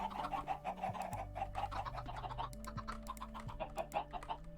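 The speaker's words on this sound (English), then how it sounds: "I heard a chicken go there." Chicken clucking in Minecraft, a few short clucks close by over a background of low, steady game music, with no talk.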